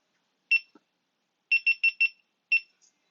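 GoPro camera self-timer countdown: a single clear electronic beep, then after a pause four quick beeps in a row and one final beep, crisp and isolated with no talk.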